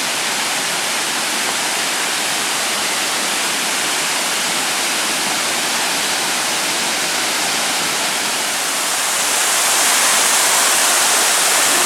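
A large waterfall roars as a steady, dense rush of falling water, loud and unbroken throughout, growing slightly stronger near the end, with no voices.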